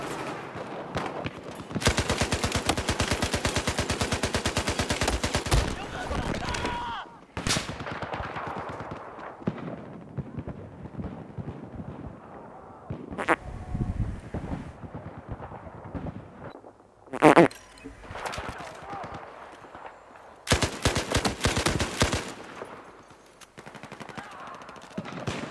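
Light machine gun fire from Battlefield 4 bursts out in long sustained rattling volleys broken by short gaps, loud and close, with scattered single shots and distant battle noise between the bursts.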